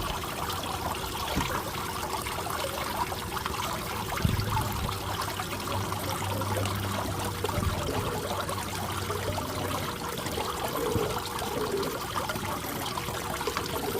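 Water trickles and runs steadily through a gold panning bucket, a continuous close splashing flow with no voices over it.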